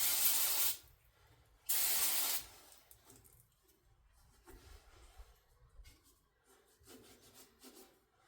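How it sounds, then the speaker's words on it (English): Spray can aimed at the carburetor of a Farmall B tractor, two loud, close hissing bursts about a second each, followed by quiet rubbing and handling sounds. "I'm going to spray this carburetor too while I got this here."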